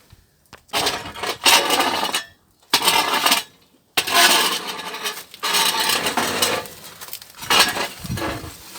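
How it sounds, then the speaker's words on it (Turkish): Cleaning out a wood-fired village bread oven, with repeated bursts of scraping and clattering separated by short pauses, loud and close. "Fırın temizliyoruz."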